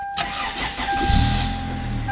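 A 1996 Toyota Corolla DX sedan with a rebuilt 7A-FE engine cranks briefly and fires, settling quickly into a loud, steady idle close by, with no voices.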